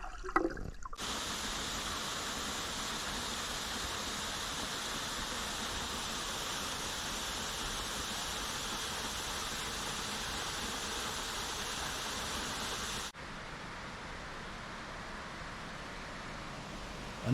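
Steady rush of the Lewis River flowing through a calm section, a continuous broadband wash of moving water that stays even and close throughout, briefly dipping slightly near the end.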